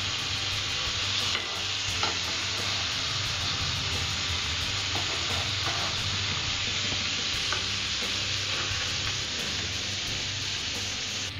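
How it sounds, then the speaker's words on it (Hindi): Paneer tikka sizzling on a tawa, a steady crackling hiss with occasional soft taps and shifting of the pieces, no talking. "5 से 7 मिनट के लिए ऐसे ही हम अपने पनीर टिक्के को तवे में रखेंगे।"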